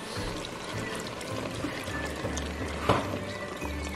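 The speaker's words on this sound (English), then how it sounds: "And then I'm gonna pour in chicken broth." Chicken broth pouring into a cooking pot in a home kitchen, a continuous close liquid stream splashing steadily for several seconds, with one brief knock near the end and no talking.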